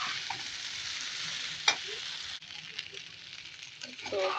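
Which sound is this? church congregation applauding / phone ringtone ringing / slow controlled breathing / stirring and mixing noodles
stirring and mixing noodles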